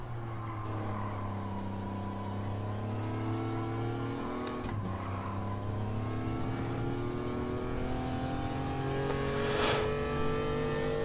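A race car engine on the Eiger Nordwand track in a video game revs in a steady climbing whine, drops sharply at a shift partway through, then builds again, with faint tire scrubbing.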